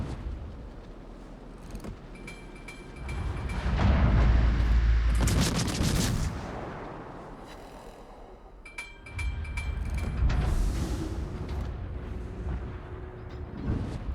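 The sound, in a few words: ship gunfire at the Tirpitz in World of Warships video game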